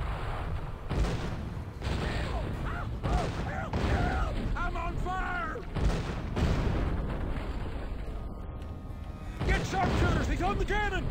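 Cannon fire from the western video game Gun: several heavy booms land at irregular intervals under near-constant shouting voices and game dialogue.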